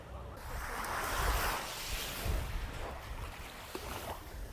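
Adriatic Sea waves wash steadily at Dubrovnik's central city beach, a broad continuous surf hiss with gentle swells, some wind noise, and no voices.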